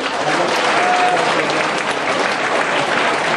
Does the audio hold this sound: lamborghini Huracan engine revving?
no